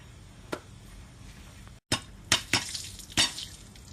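Spicy popcorn kernels pop in a pan. A few sharp, separate pops come at uneven intervals over a low, steady cooking hiss, with no voices.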